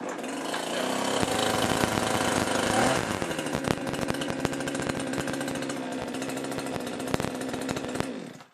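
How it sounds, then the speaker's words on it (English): A cheap $76 Chinese chainsaw, cold and pull-started, its small two-stroke engine buzzing loudly and continuously close by, rough and rattly, then cutting off at the end. "Give it a good pull."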